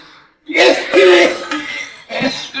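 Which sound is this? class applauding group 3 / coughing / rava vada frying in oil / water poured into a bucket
coughing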